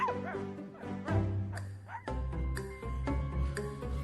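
Dog barking for a children's story: a series of short yips and woofs with a few whimpering tones, close and clear, with no talking over them.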